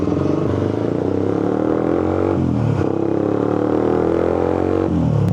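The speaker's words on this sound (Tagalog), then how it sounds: "Ito pala yung narinig ko kanina ang lakas ng motor, parang makina." A loud motorcycle engine runs close by, a steady throaty drone with repeated rises and dips in pitch as it revs, continuous throughout with no talk over it.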